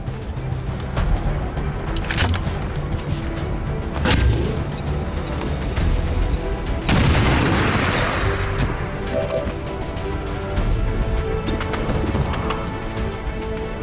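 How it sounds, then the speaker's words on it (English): A frag grenade detonates and blows apart cover in XCOM 2, a sharp crashing blast with debris, rising out of a busy bed of thuds and clatter from the game. "We'll take our lower level grenadier over here and blow up the cover."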